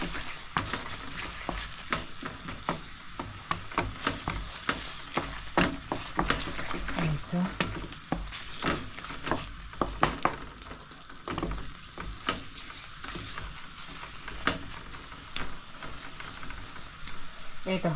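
Chopped banana blossom frying in a pan, with a steady sizzle broken by frequent scraping and clattering strokes as it is stirred, close and fairly quiet throughout.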